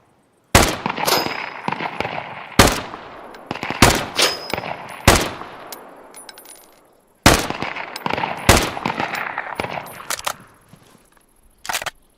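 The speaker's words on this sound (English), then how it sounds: "this AK is a laser" AK rifle firing in a video game, with loud close sharp shots in several separate bursts, each followed by decaying echo and metallic pings, separated by brief quiet gaps.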